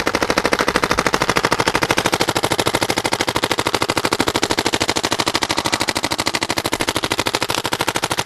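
A 2009 Proto PMR paintball marker set to 13 balls per second fires a long, unbroken rapid burst with the trigger held down, each shot a sharp crack in a fast, even rhythm, loud and close.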